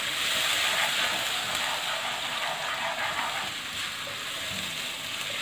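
Slices of one medium tomato sauté in a pan with a continuous, moderately loud sizzle that softens slightly toward the end, no voices present.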